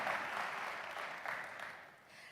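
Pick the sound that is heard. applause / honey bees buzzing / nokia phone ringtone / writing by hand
applause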